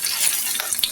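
Pieces of cabbage snack going one by one into hot oil in a frying pan, a bright close sizzle that swells slightly as each piece lands, short and without talk.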